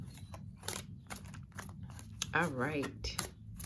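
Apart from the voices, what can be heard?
tarot cards being shuffled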